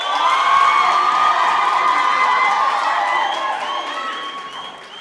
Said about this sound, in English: Can we also give another round of applause?